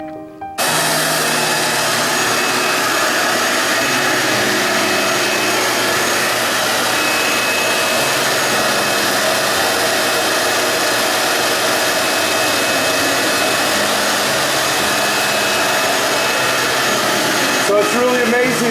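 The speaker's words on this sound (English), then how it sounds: "Going to get this all vacuumed up and cleaned" A vacuum cleaner runs loud and steady over a concrete floor while picking up debris, a continuous broadband roar lasting the whole stretch with no breaks.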